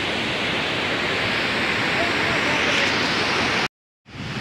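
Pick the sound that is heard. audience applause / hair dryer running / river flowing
river flowing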